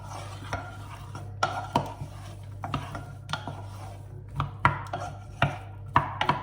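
Vegetables are stirred in a pan on a low heat, a utensil scraping and knocking against the pan in irregular clattering strokes, close up with no talking.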